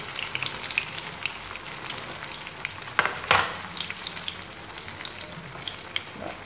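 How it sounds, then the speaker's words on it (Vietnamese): Yuba (tofu skin) sheets frying crisp in a pan of oil, a steady crackling sizzle with scattered pops and a louder burst of spattering around the middle, close and without voices. "để cái miếng tàu kia vô mình chiên nè"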